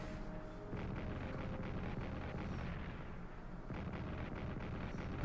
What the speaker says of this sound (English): here comes the French artillery on Aachen